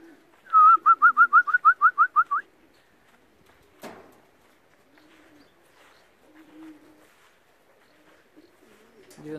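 Racing pigeons arriving at a loft after a 180 km race, opening with a loud close run of about a dozen rhythmic whistling coos, then a sharp flutter or knock and quiet, scattered soft bird sounds.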